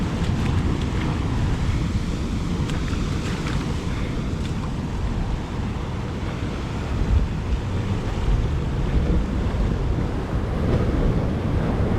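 Ocean waves wash onto a beach at high tide, a constant roar of surf mixed with wind buffeting the microphone, steady and fairly close throughout.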